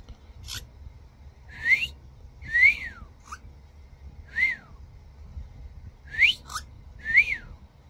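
A yellow cockatiel gives repeated bright rising-and-falling whistles with a few short chirps, about six calls spaced roughly a second apart, close and clear over faint low room hum.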